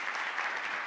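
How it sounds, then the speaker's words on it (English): Audience applause at a Pragma Conf 2025 iOS developer conference session, steady dense clapping from a seated crowd filling the whole moment, fairly distant and even with no break. "give him a round of applause, please."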